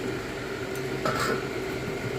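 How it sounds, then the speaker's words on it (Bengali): A lid is set over a kadai of simmering goat mutton curry, giving a single short metallic clank around the one-second mark above a steady low kitchen hum. "জল ঢেলে এবার ঢাকা দিয়ে দেবো সেদ্ধ হওয়ার জন্য"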